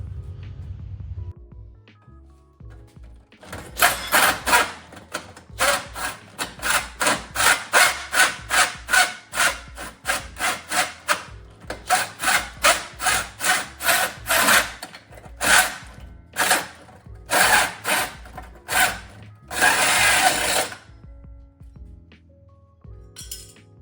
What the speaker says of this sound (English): to cut the bottom, I just used a hacksaw with a metal blade